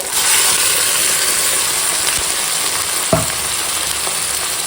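Steady crackling sizzle of chicken frying with chopped tomato in a hot pan, loud and close, with a brief clunk near the end.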